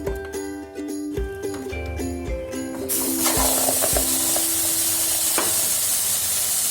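Beef dropped into a hot pan for a Kerala pepper fry bursts into loud, steady sizzling, with stirring clatter early on and a continuous frying hiss filling the rest.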